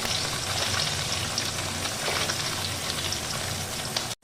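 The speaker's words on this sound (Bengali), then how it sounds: "এবার আমি ওই তেলের মধ্যে মুচ্ছাগুলোকে সামান্য নুন আর হলুদ দিয়ে ভেজে নেব" Chital fish balls frying in hot oil with salt and turmeric, a dense, steady crackling sizzle like light rain that holds at an even level throughout.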